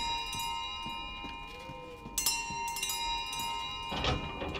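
A bell chimes in Resident Evil Village during a chandelier bell puzzle, with a bright ring around the two-second mark and another near the end over a low ambient game backdrop.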